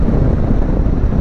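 Steady, loud wind roar buffets the rider of a 2021 Yamaha Tracer 7 motorcycle moving at speed, a dense continuous rush with no voices.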